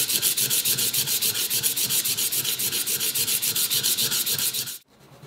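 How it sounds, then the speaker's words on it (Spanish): Rhythmic back-and-forth rasping of 120-grit sandpaper on a wooden knife handle, a quick steady stroke repeated many times up close, stopping abruptly near the end. "Para eso estoy utilizando una lija del 120"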